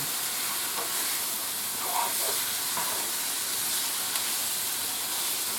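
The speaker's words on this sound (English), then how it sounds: "constantly move around the onions and the garlic so they don't burn" Onions and garlic frying in a skillet, a steady close sizzle and hiss with occasional scraping from stirring, no voices.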